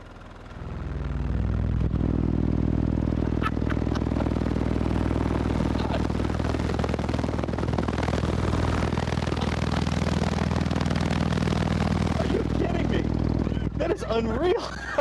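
A Sundown Audio subwoofer is pushed hard on a 20 hertz test tone, giving a dense sustained low rumble with rattling and buzzing clatter that lasts about twelve seconds, then fades, with faint voices and chatter underneath.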